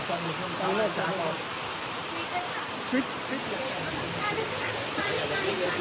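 Water rushes steadily at Pratapgarh Fort, a broad continuous hiss like a stream or small fall, with family members' voices murmuring underneath.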